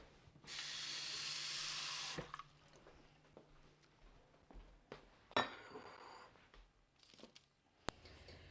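A kitchen tap runs for about two seconds, a steady rushing stream of water at close range, followed by quieter handling clinks and small drips.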